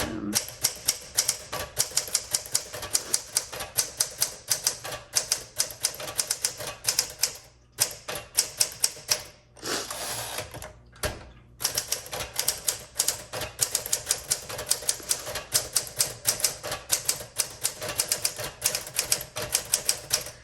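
A 1962 Smith Corona Sterling manual typewriter clacks rapidly and steadily up close, with brief pauses mid-stream before the keystrokes resume.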